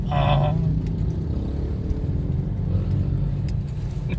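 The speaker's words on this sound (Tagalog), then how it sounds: "inunahan tayo ng malaking truck" A big truck overtakes on the road, its deep engine drone and tire roar holding steady and close throughout, with a brief higher mechanical tone near the start.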